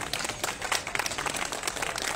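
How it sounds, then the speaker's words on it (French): A crowd at a town ceremony announcing the results of a holiday-lights and nativity-scene contest applauds its residents, a dense, steady wash of many hands clapping close by, with no talking. "Et on peut applaudir les Hermontoises et les Hermontois."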